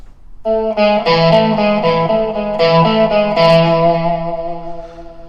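A distorted electric guitar plays a short riff of sustained, crunchy chords and notes, loud and continuous with heavy effects.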